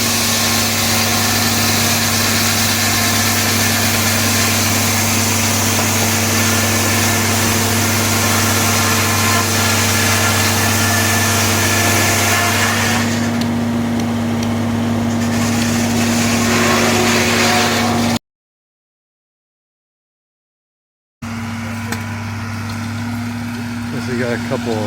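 Old stationary engine running at an early American craft show and cherry festival, a steady low mechanical hum and rumble with constant drone, close and loud, briefly cutting out before resuming.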